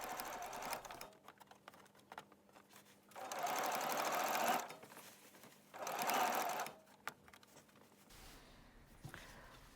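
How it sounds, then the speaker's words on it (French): A sewing machine stitches over a previous seam on a jacket, running in three loud close bursts of rapid needle chatter separated by quieter pauses with small handling clicks. "Piquez sur la couture précédente."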